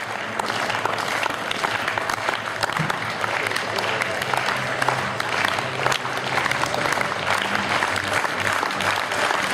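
Sustained, dense audience applause fills a sports hall after a national pole vault record, steady and loud throughout with crowd noise mixed in.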